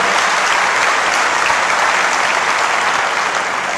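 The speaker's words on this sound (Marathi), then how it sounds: "म्हणून जोरात टाळ्या वाजल्या पाहिजे" A large audience at a motivational guidance camp breaks into loud, dense clapping that holds steady and close throughout, with no voices above it.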